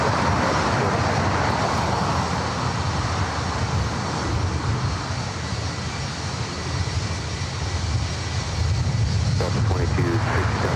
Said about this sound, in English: Honolulu flight 1431, a 23-year-old 757-300 with United